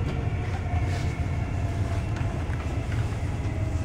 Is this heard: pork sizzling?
no